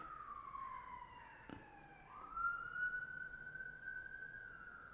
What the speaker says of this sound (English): there's like a siren going on outside, like right outside my place